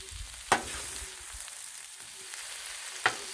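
Chili mac frying on a flat griddle, a steady close hiss of sizzling broken by two sharp scraping clacks of a spatula, with no talk.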